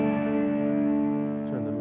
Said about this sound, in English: Let's look at the deep space reverb.